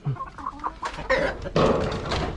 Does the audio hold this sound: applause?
no